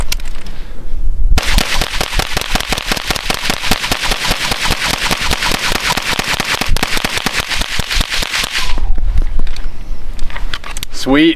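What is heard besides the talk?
pistol-caliber carbine firing a full magazine rapidly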